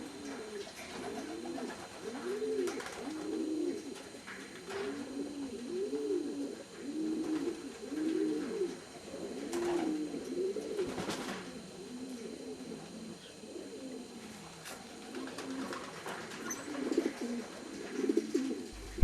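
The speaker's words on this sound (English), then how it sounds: "The pigeons are able to go in and out as they please during the day" Racing pigeons in a breeding and racing loft coo continuously in overlapping, throaty rolling calls, close and fairly loud, with no voices.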